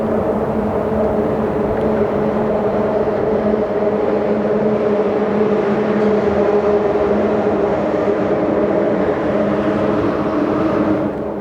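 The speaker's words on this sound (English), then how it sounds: "Calm when it's just the water, and chaotic when the cars pass by the bridge." Traffic crossing a bridge beside water, a dense continuous rumble of passing cars with steady low drone, loud and unbroken, no voices.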